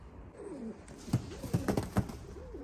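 Homing pigeons, a paired set of racing birds, cooing softly in a loft; several short throaty coos and warbling calls arrive in a cluster over a quiet background.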